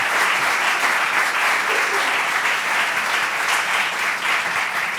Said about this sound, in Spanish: un fuerte aplauso creo que le debemos dar